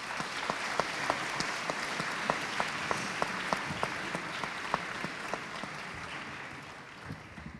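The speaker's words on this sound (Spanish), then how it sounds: "quiero de verdad empezar estas palabras con un aplauso para los representantes de los 31 colegios" School representatives at a university gathering in Valparaíso receive audience applause: a broad, steady wash of clapping from a large crowd, fairly distant, with a few sharp individual claps standing out in a loose rhythm before it slowly fades.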